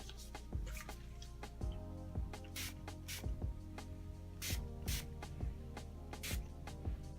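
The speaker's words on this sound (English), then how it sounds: "I'm just going to spray my Mario Badescu." Several short hissing bursts of Mario Badescu rose water facial spray being misted from a pump bottle, spaced a second or so apart, close and fairly loud over a steady background hum, with no talking.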